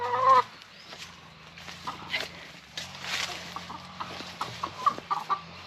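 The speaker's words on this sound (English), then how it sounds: "I just thought I'd show you my rooster while I'm talking." Farm rooster clucking in short, scattered bursts at close range, with quieter background farmyard sounds and a faint voice now and then.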